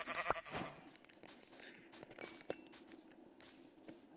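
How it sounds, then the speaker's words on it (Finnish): A sheep bleats faintly in a video game, a short wavering call near the start, followed by soft footstep-like clicks and scattered game noises at low level. "Lammas!"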